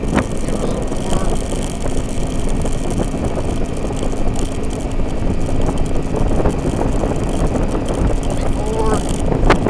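A scooter engine runs at half throttle during a tune-up, a loud, rough, continuous motor drone close by with wind buffeting the microphone.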